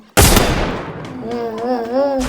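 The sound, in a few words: gunfire in Free Fire video game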